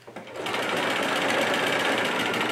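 A sewing machine stitching thread on fabric, a close, loud and steady mechanical whir that starts after a brief pause and runs evenly to the end with no voices.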